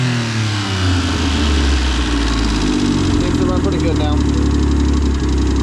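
A Subaru Justy engine runs and revs as the gas pedal is pressed, a loud steady mid-pitched drone with rising throttle swells, up close under overlapping talk.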